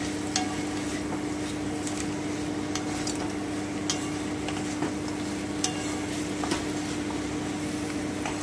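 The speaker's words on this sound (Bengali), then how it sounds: "আমি বড়িগুলো দিয়ে দিচ্ছি। আমি একটু নেড়ে নিচ্ছি।" Lentil dumplings (bori) stirred with spinach in a pan for a shish palong shaker ghonto, giving a steady soft sizzle with occasional light scrapes and taps of a spoon throughout.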